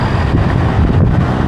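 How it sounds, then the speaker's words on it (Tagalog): Loud, steady wind rushes and buffets over the microphone during a bike ride along Daang Hari in Kawit, Cavite, a constant low roar with no pauses. "medyo yung salubong na ng hangin sa atin is malamig-lamig pa"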